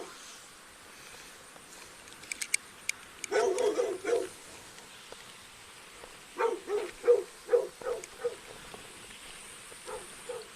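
A puppy barks in short yapping bursts, a few sharp yips early and then clustered barks near the microphone, over a quiet background.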